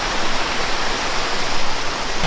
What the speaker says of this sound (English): The water stream you can see here, and it goes down and becomes a waterfall.